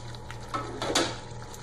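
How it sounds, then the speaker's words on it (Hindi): Boiling onion gravy with fried onions being stirred in a pan for a paneer dish, a spoon scraping and clinking against the metal with a soft bubbling sizzle underneath, close and fairly quiet. "मिक्स कर देंगे अच्छे से इसे"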